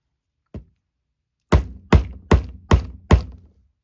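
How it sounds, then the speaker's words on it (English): A metal jewelry corner piece is banged down onto the spine of a handmade journal. One light tap comes first, then five loud, evenly spaced thuds in a quick steady rhythm, close up with no speech. "for all intents and purposes, we're going to be banging it down"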